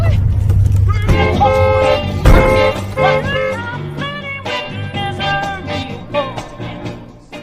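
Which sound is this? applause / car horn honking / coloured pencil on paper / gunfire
car horn honking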